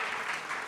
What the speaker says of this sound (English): if you would give them a round of applause